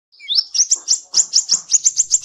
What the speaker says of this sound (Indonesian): Dan ini burung cicak rowo.